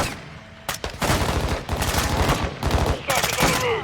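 Dense automatic gunfire from a Modern Warfare 2 campaign battle, loud rapid bursts with heavy booming shots and a short lull near the start, continuous and close.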